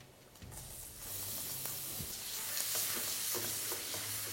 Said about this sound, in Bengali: এটা কুক করতে করতে আমি দিয়ে দেবো এখানে 2 থেকে 3 চা চামচ রসুন কুচি